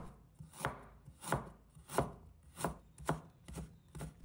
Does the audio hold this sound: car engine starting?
no